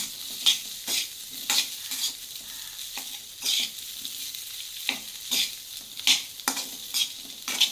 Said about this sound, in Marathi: ते आपण ह्याच्यामध्ये ॲड करूया आणि हे चांगलं परतून घेऊया